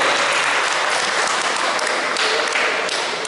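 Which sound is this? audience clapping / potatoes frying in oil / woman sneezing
audience clapping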